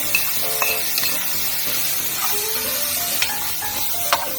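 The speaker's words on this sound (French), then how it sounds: "un peu d'huile d'olive, pas beaucoup, et ensuite je mets le lardon." Lardons frying in a little olive oil in a large pan, a steady close sizzle with a few sharper spits and pops breaking through, with no talk.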